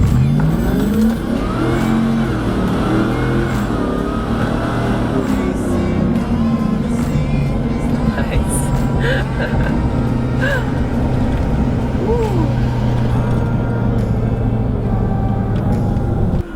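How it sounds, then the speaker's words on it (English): A supercharged 900-horsepower Ford F150 pickup engine revs loud and close, its deep roar rising and falling in sustained pulls with a rumbling exhaust note throughout. "This truck has some engine modifications as well, which includes a supercharger, bringing this truck to 900 horsepower."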